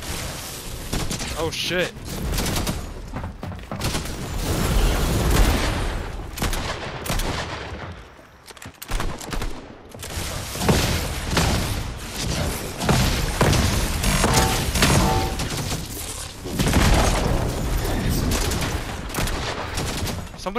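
Gunfight in Fortnite Chapter 5 Season 4 with dense, loud bursts of shots and impacts that keep going almost nonstop for about twenty seconds. There is only a brief lull midway, and a player's voice breaks in over the shooting.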